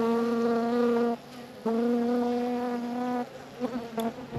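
Honey bees buzz steadily at an opened beehive during a late-season hive check, a close, loud, droning hum that breaks off briefly twice before resuming.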